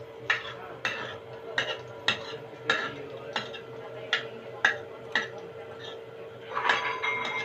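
Dishes, pots and cutlery clinking in a home kitchen while cooking, a steady rhythm of about a dozen sharp metallic taps and scrapes, like a utensil stirring against a pot, close and moderately loud, with a faint hum beneath.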